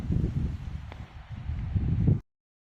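Strong wind gusts through a small pechay vegetable garden, a rough rumbling rush with rustling leaves that rises, dips briefly, then swells again before cutting off abruptly.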